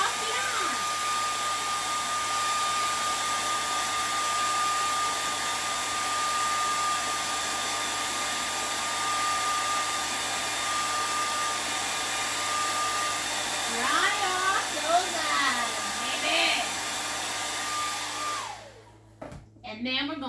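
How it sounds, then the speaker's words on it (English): Hair dryer blowing steadily to dry acrylic paint on an Easter cat painting, a loud continuous whir held for most of the stretch before cutting off near the end, with faint talk underneath. "we're going to dry off the eye."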